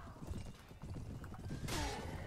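Horse hooves clatter and a horse neighs amid a chaotic cavalry battle in the Mount & Blade Perisno video game, dense and continuous with a sharp bright burst near the end.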